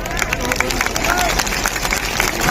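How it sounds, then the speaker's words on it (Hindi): A crowd at a political rally applauds continuously, with dense clapping and a murmur of voices held at a steady, loud level throughout. "दोनों हाथ जोड़कर गड़गड़ाहट तालियों से स्वागत करें"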